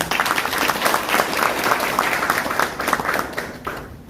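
Audience at an investment memorandum signing ceremony for a Hyundai Mobis logistics center gives a big round of applause, dense steady clapping from many hands that stays strong throughout and tapers slightly near the end.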